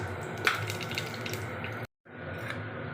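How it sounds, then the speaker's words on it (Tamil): Whole spices with a bay leaf dropped into hot oil for a green pea rice dish give a steady, close crackling sizzle. It cuts out briefly near the end, then resumes. "இப்போது எண்ணெய் காஞ்சிருச்சு. இப்போ இந்த தாளிப்பு பொருட்கள் எல்லாம் முதல்ல போட்டுடலாம்."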